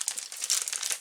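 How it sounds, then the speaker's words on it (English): Crisp crinkling of a small plastic bag of spare parts for a 1:64 scale model building, heard up close as scissors cut it open, in a brief run of rustling and snipping with no talk. "Cut that open with the scissors."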